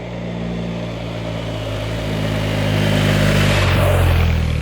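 A 2021 BMW R1250GS motorcycle's Euro 5 boxer engine runs close by with a deep steady drone, then revs up and grows louder toward the end, with no talking.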